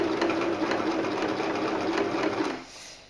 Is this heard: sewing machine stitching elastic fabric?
yes